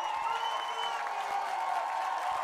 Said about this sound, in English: It is impossible to hear anything outside of the amount of cheering that is going on